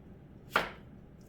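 A knife slices through a peeled onion in one quick, crisp chop, a single close cut that stands out clearly against quiet room tone.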